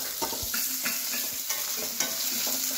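Onions fry in hot oil with curry leaves and green chillies for hotel-style sambar, a soft steady sizzle broken by light scraping stirs of a spoon, close and fairly quiet.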